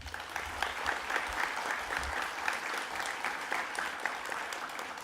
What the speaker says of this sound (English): give yourselves a well-deserved round of applause